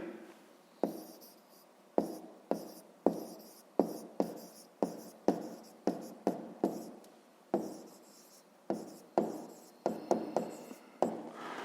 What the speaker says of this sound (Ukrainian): Ну і записуємо тоді Федоренко Федір.